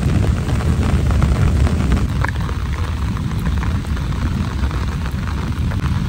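A dense, steady roar of heavy rain pours down on a village without a break, loud and close, with no voices.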